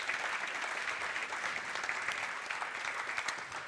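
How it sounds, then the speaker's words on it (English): Audience applause at a crypto Q&A event, a steady wash of many hands clapping at moderate distance, fairly soft and continuous from start to finish with no talking. "So I think we can give a big round of applause for them."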